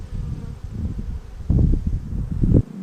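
Honey bees buzzing around an opened hive during a honey harvest, a dense close drone with swelling surges as bees pass near, steady and fairly loud.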